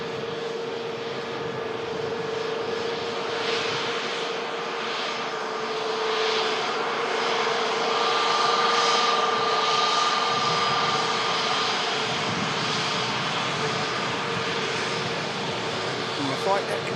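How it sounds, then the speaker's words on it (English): A Pegasus airliner, an 11-year-old airframe, taxis past with a steady, fairly loud jet engine roar and a sustained whine that holds throughout, while people talk over it. "Pegasus just taxiing off in front of us."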